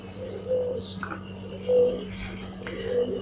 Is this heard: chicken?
no